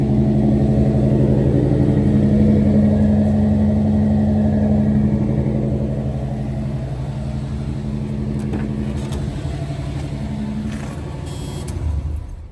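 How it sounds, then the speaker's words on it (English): A 1977 Chevrolet El Camino with an aftermarket exhaust idles with a deep, steady rumble. It is still a little cold and runs close and loud, then settles slightly lower before a brief blip near the end. "She's still a little cool this morning, but runs fantastic. It's got a nice exhaust on the back as well."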